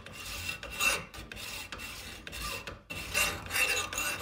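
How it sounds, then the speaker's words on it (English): A hacksaw rasps back and forth in irregular strokes, sawing downward through a Glock pistol grip, close and fairly quiet, with short pauses between passes. "You take a hacksaw, saw downward,"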